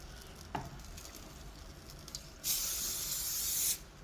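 Oil sprays in a single steady hiss lasting about a second onto a halal baharat-spiced lamb leg on a charcoal barbecue, after a quiet stretch with a faint click.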